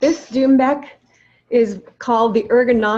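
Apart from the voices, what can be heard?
No everyday noise stands out behind the speech.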